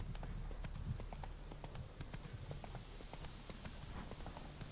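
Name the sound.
horse hooves galloping in video game The Witcher 3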